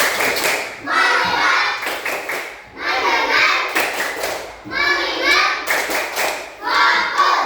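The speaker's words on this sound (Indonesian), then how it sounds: "Tepuk fokus." Second-grade pupils in an Indonesian classroom clap the 'tepuk fokus' routine together, with sharp bursts of group clapping between chanted voices. The claps come close and loud in quick rhythmic clusters.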